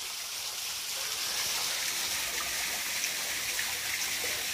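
A small creek flows through old logging ground, giving a steady, close broadband wash of trickling water that continues evenly with no voices.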